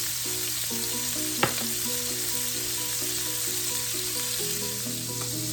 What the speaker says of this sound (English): while my pork chops are working that cast iron pan